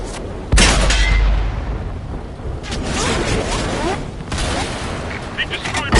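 Tank cannon fire and explosions from World of Tanks: a heavy boom opens, followed by further blasts and rumbling impacts in a dense, loud battle mix.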